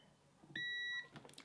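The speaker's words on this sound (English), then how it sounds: "And we're getting a continuity beep." A single steady electronic beep from a multimeter continuity test on a DisplayPort cable, clear and sustained for under half a second, with quiet room noise before and after.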